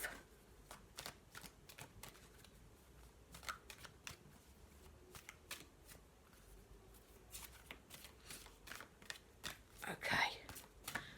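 Tarot cards shuffled, flicked and laid down on a surface, a quiet, close string of crisp snaps and soft slaps in irregular bursts, with faint low voice sounds in places.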